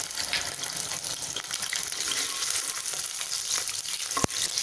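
Ginger and garlic sizzle steadily in hot oil, a continuous bright frying hiss with occasional stirring scrapes and a sharp clink near the end.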